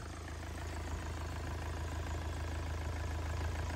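A Yanmar 4TNV98 diesel engine idles smoothly and quietly, producing a steady low rumble that stays even throughout with no voices.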